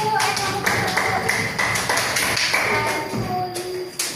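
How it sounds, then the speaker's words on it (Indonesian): Applause for class 1 in a classroom, a fairly loud stretch of rapid clapping and tapping from a group, with voices talking over it. "boleh kita tepuk tangannya untuk kelas 1"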